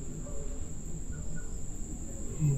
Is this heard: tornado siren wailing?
no